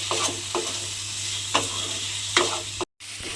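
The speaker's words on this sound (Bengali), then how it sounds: "দিয়ে এবারে সমস্ত কিছু খুব ভালোভাবে মিশিয়ে একটু কষিয়ে নিতে হবে" Fried potatoes are stirred into a hilsa fish head masala in a hot pan, producing a steady sizzle broken by repeated spoon scrapes every half second or so, close and fairly loud, with a brief dropout near the end.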